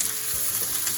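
One large onion, chopped small, frying in a pan: a loud, dense, steady sizzle filling the whole moment without pause or talk.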